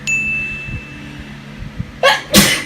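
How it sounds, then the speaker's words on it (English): A sharp sneeze bursts out near the end, preceded by a quick intake and a faint ringing tone early on, with a few soft knocks. "Sorry, I had to sneeze."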